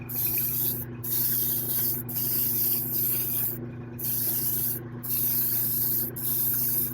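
Spray gun laying a wet coat of paint onto a quarter-scale sculpted figure: long steady hissing bursts separated by brief pauses, close, over a low background hum.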